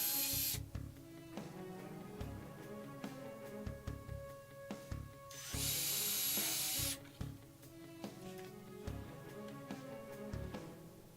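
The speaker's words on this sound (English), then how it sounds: "Same thing, pre-drill and screw it together." A power drill whirs in short bursts, pre-drilling wood for a chainmail coil maker rig, with clattering handling noises between runs and one longer high hissing burst.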